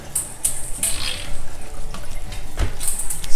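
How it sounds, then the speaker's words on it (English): A Spray Pal diaper sprayer spraying water after installation, a steady hiss of running water at moderate level with brief bright spurts, no voices. "Okay, then you can test it out by taking your sprayer,"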